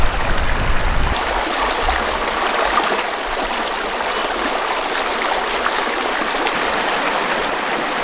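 Black River flows steadily near its confluence with Bear Creek in the wilderness, a broad continuous rushing wash of water that stays loud and even throughout, with no voices over it.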